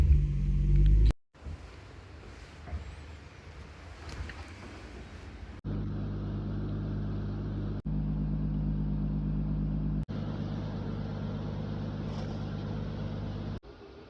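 A turbocharged Lexus IS200 engine cranks and fires, then settles into a steady loud idle that holds for several seconds, with brief dips and revs in between.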